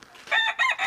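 A 16-year-old rooster lets out one brief, close crow in two rising and falling parts.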